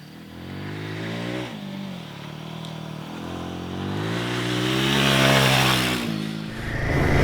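A Royal Enfield Himalayan 450 motorcycle rides along a lane in Slovenia, its engine note rising and falling through gear changes, loud and close with wind rushing over it.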